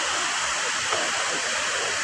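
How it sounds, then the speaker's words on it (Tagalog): Pangas Falls waterfall in Bilar, Bohol, Philippines: a steady, dense roar of falling water that stays constant throughout. "Napakanindot na waterfall, Pangas Falls."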